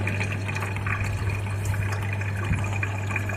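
Steady trickling and splashing water falling inside an old cooler over a constant low hum, continuous and close.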